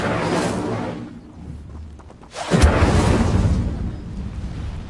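Fire spell cast in Hogwarts Legacy: a roaring burst of flame erupts midway, loud and full, then rumbles on, following an earlier fading whoosh.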